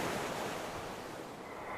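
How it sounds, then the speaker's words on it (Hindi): Strong sea waves wash against the shore in a continuous, loud roaring surf with wind-like hiss, steady throughout with no talk. "वो समंदर की लहरों की ओर चली जा रही थी और आज लहरें भी काफी तेज थी"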